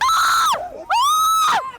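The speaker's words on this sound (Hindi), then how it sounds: "थोड़ी देर में वो चीखती चिल्लाती भी सुनाई दी" A girl screams and cries in news footage, two long, loud, high wailing screams separated by a brief sobbing pause, close and alone.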